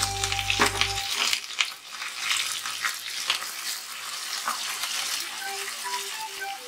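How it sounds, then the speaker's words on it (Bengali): Prawns sizzling in a pan over onion and tomato that were already fried well, a steady close frying crackle with stir-like scrapes throughout and no talk. "পেঁয়াজ টমেটোটা খুব ভালো করে ভাজা করে নিয়েছি। এবার এর মধ্যে চিংড়ি মাছটা দিয়ে"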